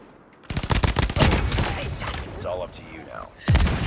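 Gunfire in the mobile shooter Call of Duty Mobile, with a rapid run of sharp loud shots followed by a single heavy blast near the end, as a shotgun fires amid in-game action.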